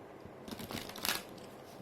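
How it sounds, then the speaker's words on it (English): A deck of tarot cards is shuffled by hand, a quick, faint riffling flutter lasting under two seconds with a brighter snap near the end, no voices. "I'm going to quickly shuffle the deck once again"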